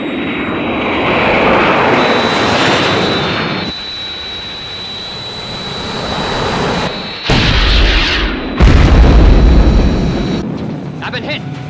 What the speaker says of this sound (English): I'm under attack from 3 unidentified aircraft and taking evasive action.